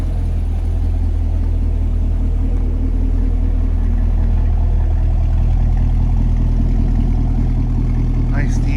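A 2018 Chevrolet Camaro 2SS 1LE with a six-speed manual idles close by with a deep, steady low rumble and a slight chug, running loud and constant throughout.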